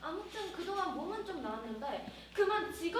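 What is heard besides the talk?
No everyday noises stand out.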